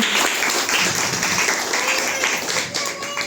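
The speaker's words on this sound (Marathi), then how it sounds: "कृपया त्यांच्यासाठी आवर्जून टाळ्या झाल्या पाहिजे" An audience at a Marathi literary event breaks into sustained applause, dense rapid clapping from many hands that stays loud and even throughout.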